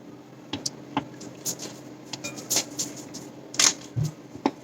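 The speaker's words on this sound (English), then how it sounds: "Now I'm going to pour the slime powder and slowly mix it up with this holder." Slime powder is stirred into a bowl of warm water with a small holder: soft, irregular scraping, tapping and squishy clicks, faint and close with a quiet background.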